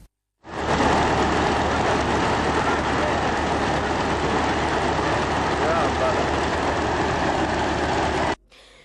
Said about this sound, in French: En attendant son décollage, le moteur tourne.